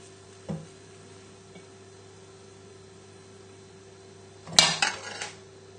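A spoon clinks against a plate while noodles and vegetables for a Chinese chicken thigh stir fry are served, a faint tap early on, then a louder cluster of scraping clatter near the end over quiet background hum.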